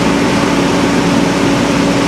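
An old C4 Corvette engine idles too high, a steady, loud, even drone with a constant low hum and no change in pitch, heard alone without talk.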